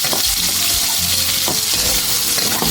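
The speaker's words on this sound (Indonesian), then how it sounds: "Juga kita goreng sebentar ya," Pizza toppings frying in a Teflon pan, a loud, continuous close sizzle with occasional scraping stirs, no talk.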